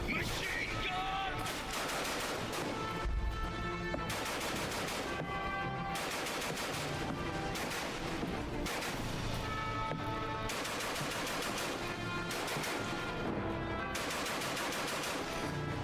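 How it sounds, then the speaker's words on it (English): Rapid, sustained machine gun bursts in the war video game Ad Infinitum, dense and loud with repeated pulses, under shouting voices and battle noise. "Machine gun!"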